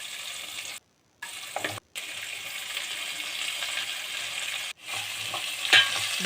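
Sliced onions and green chilies sauté in a pan for Kerala-style chicken ularthiyathu, a close, steady sizzle with stirring scrapes, interrupted by a few abrupt moments of silence.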